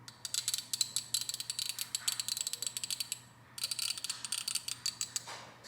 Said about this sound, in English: Each one of these ratchets are 120 tooth.